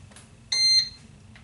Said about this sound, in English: So my machine beeped, it's ready, it's all heated up.